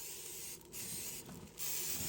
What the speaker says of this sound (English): we're going to just spray this a little bit.